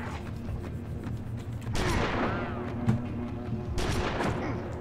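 Enemy shotgun blasts in Oddworld: Stranger's Wrath, two heavy booming shots a couple of seconds apart over a steady rumbling game ambience, with some smaller pops between them.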